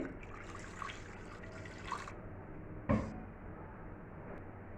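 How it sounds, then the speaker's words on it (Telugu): Water poured into a pan fitted with a stand for steaming gives a soft, steady splashing trickle, faint and close, with a brief louder splash near the end. "అలాగే కొంచెం వాటర్ వేసుకోండి"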